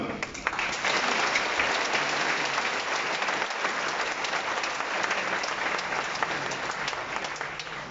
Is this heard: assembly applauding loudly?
yes